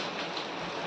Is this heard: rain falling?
yes